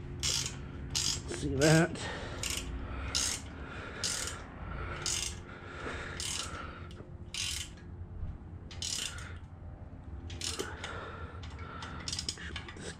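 A hand-cranked ratchet winch on a boat trailer clicks in short repeated bursts of ratcheting pawl clatter, fairly close and steady across the clip, with a brief voice near the start.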